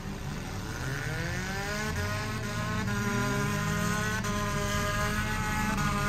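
B-main race cars lap around an arena track on championship night, several engines roaring together in a continuous, loud drone whose pitch keeps rising and falling as they pass.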